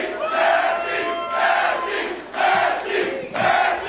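A large crowd shouts and roars together in loud, surging waves, the chanting swelling and dipping several times in quick succession with no single voice standing out.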